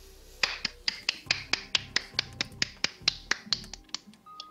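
A steady run of sharp finger snaps, about four per second, crisp and close, used like applause with no talking.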